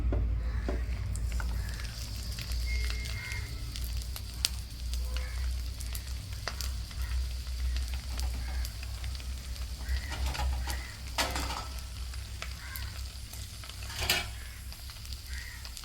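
Fish laid on a banana leaf sizzles in a hot pan, a soft continuous crackle and hiss up close with a few faint pops and clicks, steady throughout without any talking.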